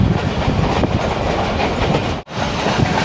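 A train on a Karachi to Gujranwala journey rolls through Prem Nagar railway station, heard from on board as a loud, continuous rumble and clatter of wheels on rails, with a brief dip in the noise near the end.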